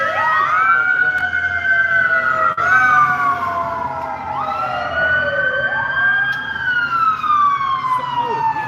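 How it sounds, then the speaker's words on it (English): A wailing siren sweeps up and down in pitch continuously, loud and close, with the steady rumble of traffic beneath it. "every time you hear sirens or stuff"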